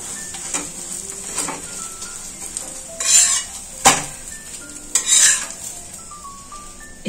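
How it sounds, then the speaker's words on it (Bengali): A flatbread for chicken rolls fries in a pan with a soft, constant sizzle, broken by several scraping and clattering bursts from a spatula or utensil against the metal. "এই প্রত্যেকটা রোলের রুটি আমি এইভাবেই ভেজে নেব।"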